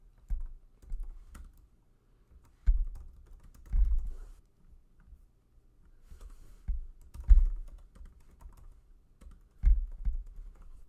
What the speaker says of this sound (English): for this font, I'm just going to type in the address.